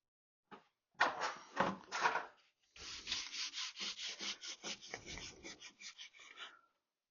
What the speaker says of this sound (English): I'm gonna try sanding this again.